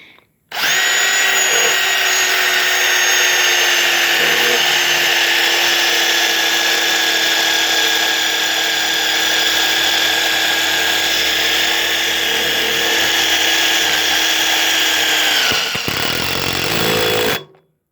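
A Porter Cable drill bores into quarter-inch angle iron with a loud, close, sustained whine that holds steady for about fifteen seconds after a quick start, then cuts off sharply and winds down.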